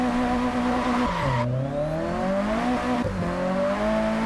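Tires squeal in a long drift in the Japanese Drift Master racing game, the modified car's engine revving loudly and shifting pitch throughout, with brief squeal bursts near the start and again around three seconds.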